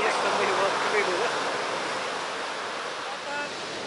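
Stormy sea waves wash in a continuous broadband roar with wind, moderately distant and steady, with faint voices and brief bird-like chirps over the surf.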